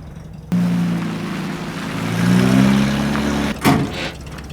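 A repaired car engine starts up with a sudden steady idle hum, rising briefly as it revs, then ends with a sharp clunk; no voices.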